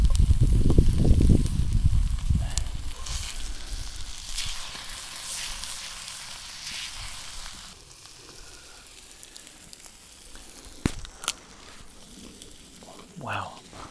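Garlic and butter sizzle with potatoes in a pan at a remote desert campsite. The hissing frying is loudest early on, then fades to a softer crackle, with some talking.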